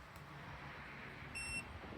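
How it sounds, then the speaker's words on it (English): A few short high-pitched electronic beeps from a super capacitor car jump starter sound briefly over a steady low hum, close by and fairly faint. "It beeps several times."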